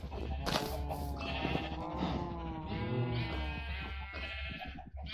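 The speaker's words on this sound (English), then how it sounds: "all the pink sheep are going to be up and at 'em" Sheep in the video game Minecraft bleat repeatedly and overlap one another, a close, continuous chorus of wavering calls.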